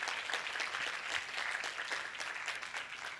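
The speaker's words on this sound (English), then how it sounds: "Let's clap for her." An audience at a mental health awareness workshop claps steadily, individual hand claps audible in a moderate, even stream that is somewhat quiet and distant.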